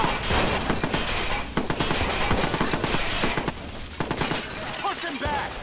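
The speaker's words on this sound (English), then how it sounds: "Shots fired! I need backup now!" Sustained bursts of automatic gunfire and rapid shots in the Watch Dogs video game, loud and dense throughout, with overlapping volleys from a close-range firefight.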